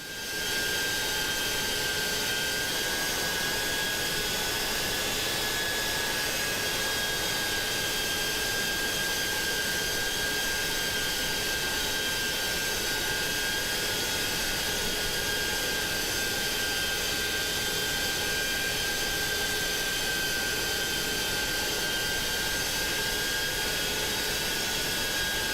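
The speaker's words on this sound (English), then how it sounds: "Landing into Geneva, ladies and gentlemen, with messed up landing gear pretty much." Airbus A330 landing at Geneva in Microsoft Flight Simulator 2024, with faulty landing gear: a steady, loud jet engine roar with a sustained high whine holds evenly throughout, with no voices.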